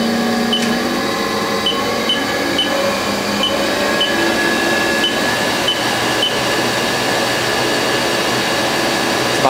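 The spindle of a Haas SL-20 CNC turning center runs at about 1,000 RPM, a loud, steady machine drone with a whirring tone and a few faint ticks over it, unbroken throughout.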